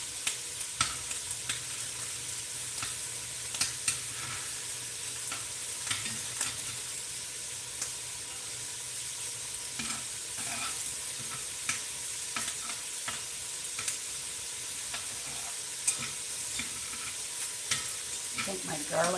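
Garlic fries in a pan with a soft, continuous sizzle, broken by frequent short scraping and stirring clicks, close and fairly quiet with no voices.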